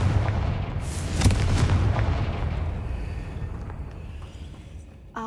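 Confringo fire blast spell in Hogwarts Legacy: a heavy explosive boom with sharp cracks, followed by a long rumbling decay that fades out before a brief new sound at the end.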